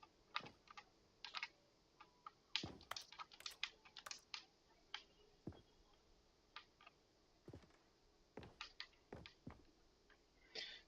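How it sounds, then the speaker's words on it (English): Buttons on a game controller clicking during play, fast irregular little taps and clicks heard faintly and close with no one talking. "So you guys can hear the clicking of my controller,"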